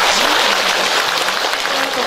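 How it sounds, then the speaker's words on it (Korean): An audience claps loudly and continuously at a book-launch ceremony at Donghaksa temple, welcoming a Buddhist monk to the stage; a dense, even wash of applause fills the whole moment. "여러분 큰 박수로 맞아주시면"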